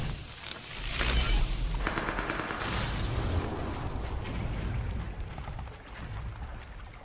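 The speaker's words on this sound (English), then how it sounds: "I heard a lot of gunfire." Rapid automatic gunfire crackles and rattles from a video game trailer shown at a PlayStation Showcase, with sustained bursts layered over rumbling, roaring effects at moderate level.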